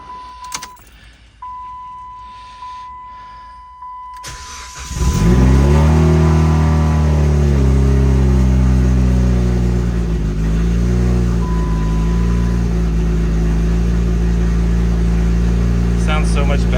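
A car with a straight-pipe exhaust cranks and fires up, then revs and settles into a loud, rumbling idle close by, with brief electronic chimes before the start.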